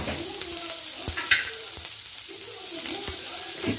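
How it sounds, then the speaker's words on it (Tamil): Onion, mustard seeds, urad dal and curry leaves sizzle in hot oil in a pan, a steady close frying hiss broken by a few sharp stirring clicks, with no voices. "கொஞ்சம் எண்ணெயில் கடுகு, உளுத்தம் பருப்பு, கருவேப்பிலை இதெல்லாம் போடுங்க"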